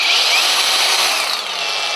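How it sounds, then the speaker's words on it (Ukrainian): A cordless angle grinder spins at high speed close by, a steady loud whine and whir that dips slightly in pitch toward the end, with no speech. "В кожної болгарочки є 4 швидкості."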